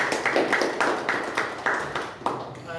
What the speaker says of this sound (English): I would say really you would have a round of applause for the wonderful story.